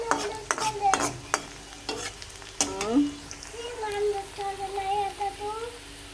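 Cabbage sizzles in a pan while a spoon scrapes and stirs it in several sharp, close strokes. Voices talk over the gentle frying hiss.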